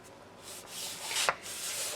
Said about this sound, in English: and just burnish them down.